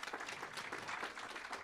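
Applause for an absent award recipient at a national planning indaba and young planners awards ceremony, a steady patter of clapping from the audience, quiet and somewhat distant, lasting under two seconds without talk.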